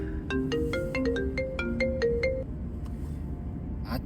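A phone ringtone plays a bright melodic tune of short repeated tones for about two and a half seconds, then cuts off, leaving a quiet room hum.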